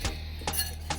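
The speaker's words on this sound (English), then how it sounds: "So you just whisk this together" A whisk striking the inside of a glass bowl while mixing quinoa bowl sauce, three sharp clinks spaced evenly about half a second apart, close and clear with no talk.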